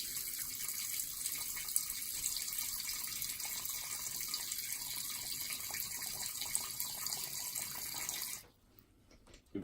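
Water pours steadily into a tarantula enclosure, a faint, even trickling hiss that runs for several seconds and then stops abruptly.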